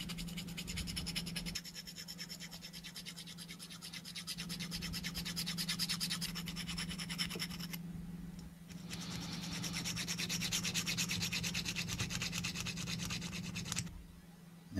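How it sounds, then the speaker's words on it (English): Steady, continuous rubbing and scratching of sandpaper being worked over the body of a model 1972 Ford Ranchero to remove casting marks, close and fairly loud, with a brief pause near the middle and no talking. "You can see all the marks where I've sanded it down."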